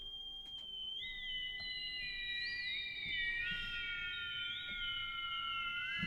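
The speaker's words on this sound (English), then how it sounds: "I'm also really loving these cool whistle tone glitters on the trombone." Trombone playing shimmering whistle-tone glitters within an orchestral film and game scoring template, thin high sustained tones gliding and overlapping above a soft low ensemble bed for several seconds, with no talking.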